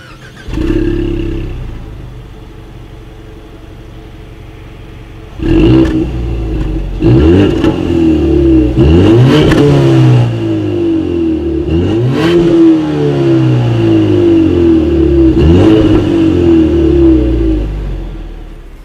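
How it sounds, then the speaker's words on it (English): Revs from a 2019 Ford Mustang EcoBoost through dual exhaust with chrome tips: an idle, then four or five sharp throttle blips that climb and fall away, loud and close, with no talking. "As always, here is that exhaust clip."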